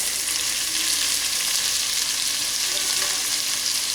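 Whole spices fry in hot oil for achari tinda before onions go in, giving a loud, dense, unbroken sizzle heard close up with no talking.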